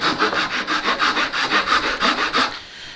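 A Japanese pull saw cuts through wood held on a bench hook, about a dozen quick, even rasping strokes in steady rhythm, close and clear, before stopping.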